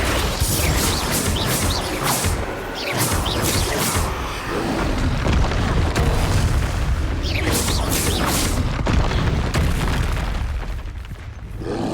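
Confringo fire-spell blasts in Hogwarts Legacy go off in a dense, continuous barrage, one loud booming explosion after another with crackling bursts, mixed with other spell impacts and no clear pause between them.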